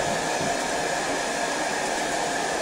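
Heat gun on its heat setting warming the covering film on an RC model airplane; a continuous close blowing roar with a whining fan tone, steady and loud throughout.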